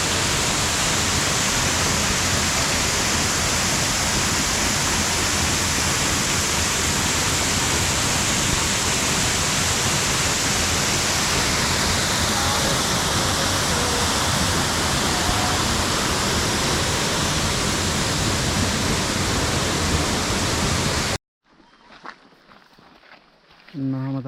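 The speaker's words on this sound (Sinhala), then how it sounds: "වතුර සද්දේ වැඩි මේ දවස්වල" Heavy water flow at Knuckles waterfall in Sri Lanka makes a loud, steady, broadband roar that holds unbroken for about twenty seconds, then cuts off abruptly into much quieter outdoor ambience.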